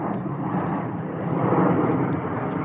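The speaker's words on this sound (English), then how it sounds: "Really? An airplane has to pass now?" Airplane passing overhead near the edge of a forest, a steady broad low rumble that swells slightly toward the middle and holds, alone with no talk.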